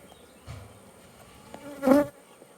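Honey bees buzz around a small hive during a honey super inspection, one close, loud buzz swelling briefly before fading among faint background hum.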